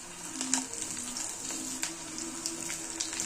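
Batter of peas and amaranth leaves, dropped in small balls, fries in hot oil with a faint, continuous crackling sizzle dotted with tiny pops, heard close and alone.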